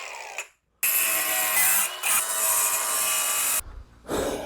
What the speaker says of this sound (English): So I'm gonna just go ahead and cut them hose off.